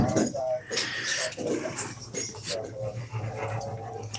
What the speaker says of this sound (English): It's a husky German Shepherd mix.